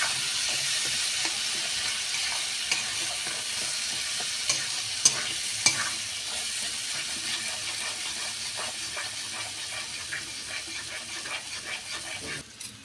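Green pea paste fries in hot oil, a steady broad sizzle lasting throughout with scattered small pops and occasional scraping stirs, close and fairly loud with no talking.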